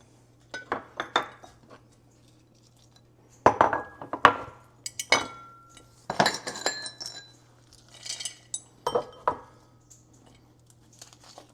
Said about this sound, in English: Now the dried stuff I just kind of dump in